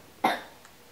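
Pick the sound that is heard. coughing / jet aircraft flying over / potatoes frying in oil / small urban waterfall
coughing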